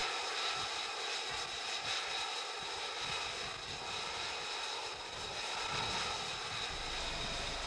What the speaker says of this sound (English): the Italian Air Force and the Italian Navy complete a major milestone by conducting F-35B cross-deck operations